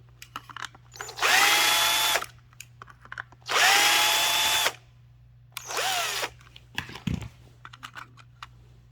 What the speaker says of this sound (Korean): 분해해 볼게요 다시 요 볼트 3개 풀러서 이렇게 분리하고